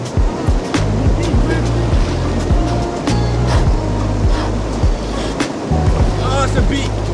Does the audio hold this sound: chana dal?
no